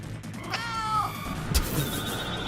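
A pet cat sitting on a lap right by the microphone lets out a couple of close, drawn-out meows with a rising, bending pitch, the second cry sharper and brighter, over a faint room hum.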